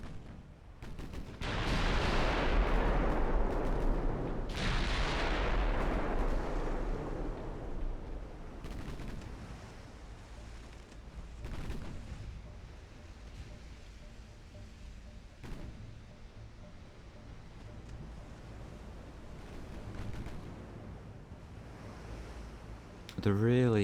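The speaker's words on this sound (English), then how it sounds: "Main guns on the large ships." Battleship main guns firing in the naval warfare game Ultimate Admiral Dreadnoughts: two heavy booms a few seconds apart, each rolling into a long fading rumble, over a low ocean wash.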